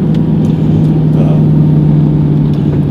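A 740-horsepower 2003 Ford Cobra SVT with a Kenne Bell supercharger runs with a loud, steady, close engine drone, holding an even pitch throughout without clear revs.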